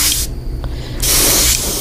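Spray paint hissing onto a chartreuse bass fishing lure in two loud, close bursts, each about three-quarters of a second long, with a short pause between them.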